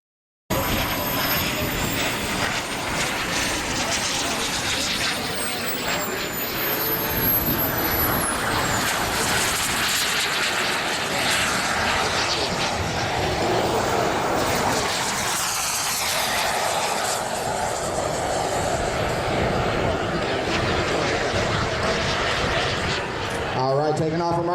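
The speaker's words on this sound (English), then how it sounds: "taking off from right to left is that twin turbine F4 Phantom from Skymaster Jets, powered with 2 P100 turbines." A Skymaster Jets F4 Phantom RC model jet with twin P100 turbines takes off at an RC jet event, a steady, loud turbine roar lasting throughout with a rising whine near the start, with a voice talking over it.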